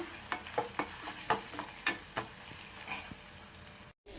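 Crushed ginger and garlic frying in a pan, a soft sizzle punctuated by repeated scraping strokes of a spoon, fairly quiet and close, with no speech.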